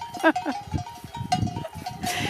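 Cows gather close around a person at a sunset spot, giving short bellowing calls and snuffling noises near the listener, with a brief voice and light rustling mixed in.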